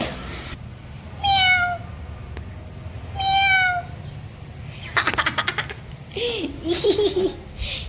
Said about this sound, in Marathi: ए मांजर.